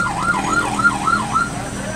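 An ambulance siren on a highway wails loudly and close, a fast regular up-and-down warble repeating about four times over road noise.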